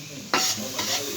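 Onions and green chillies fry in oil for a fish curry, a close, bright sizzle that swells twice as the pan is stirred, over a low hum.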